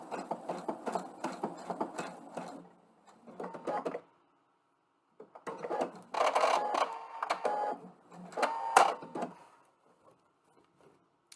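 A PFAFF sewing machine stitches a buttonhole, running in short rapid mechanical bursts with brief pauses and a silent gap, close and moderately loud with no talking.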